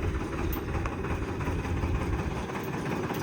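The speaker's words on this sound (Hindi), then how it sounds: "सांगाराम ट्रॉली और ट्रैक्टर बाहर निकाला है" A tractor engine idles close by in a village lane, a steady low rumble that runs unbroken for a few seconds with no talking over it.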